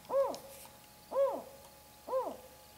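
An owl in a high forest gives three evenly spaced hoots, each a clear, rising-then-falling call about a second apart, fairly faint and alone against a quiet background.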